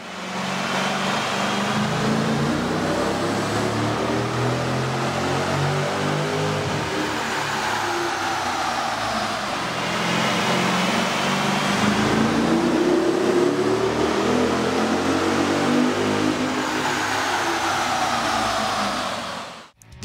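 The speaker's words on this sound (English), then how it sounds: "we ran the vehicle on the dyno to test the sound comparison versus the stock intake" Dodge 6.4L V8 fitted with an aftermarket air intake roaring on a dyno, loud and sustained with rising and falling revs across a long pull, then cutting off abruptly at the end.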